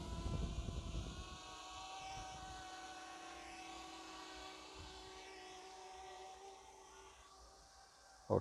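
A DJI Mavic Mini drone pushed to full throttle in cine smooth mode gives a steady, thin motor whine that holds at an even level for several seconds, with no speech.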